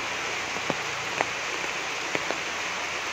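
Heavy rain falls steadily over a vegetable garden, a dense continuous hiss with a few sharper drip impacts standing out, fairly faint and without voices.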